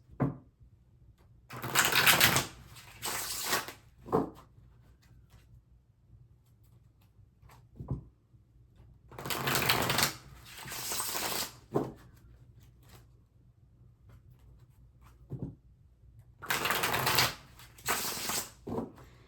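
Tarot cards are shuffled in three separate bursts of riffling, each a few seconds long, with soft taps and quiet pauses between them.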